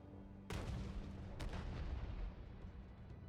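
Tank guns firing in World of Tanks on console, two loud booming shots about a second apart, each with a long rumbling decay, with no talking.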